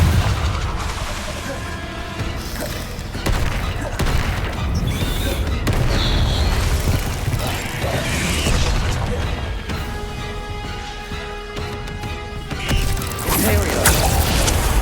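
Confringo blasting spell in the video game Hogwarts Legacy: a dense, continuous stretch of booming explosions and crashing magical impacts, loud throughout, with spoken voice mixed in.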